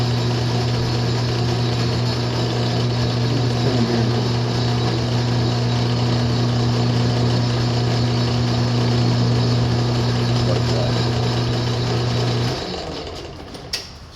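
A metal lathe runs steadily in back gear while turning an arbor, a loud constant mechanical hum with a low tonal drone that cuts off near the end as the machine spins down.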